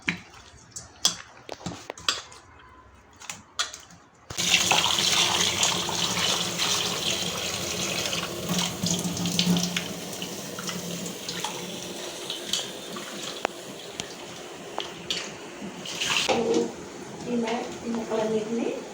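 A kitchen tap runs in a steady stream as fish pieces are washed with salt. It follows a few quiet clicks and handling knocks, with occasional splashes and clinks, and fades into scattered taps at the end.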